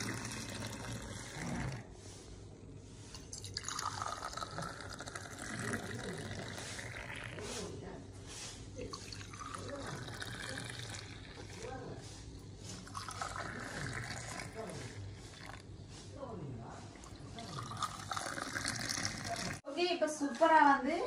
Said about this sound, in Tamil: எல்லாருக்கும் நாங்க டீ ஊத்துவோம்